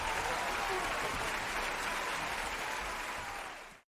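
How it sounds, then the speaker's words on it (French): An audience gives a standing ovation at a beauty contest, dense sustained applause filling the space before cutting off abruptly near the end. "se mirent à m'applaudir, moi, Edith la truite, suivie par tout le public. Standing ovation!"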